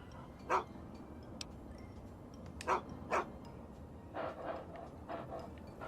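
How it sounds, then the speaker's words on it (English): A dog in the Fallout 3 Tranquility Lane game barks several times, a sharp bark near the start followed by two close barks and a softer run of yips, over a quiet background. "Have you met Doc the dog"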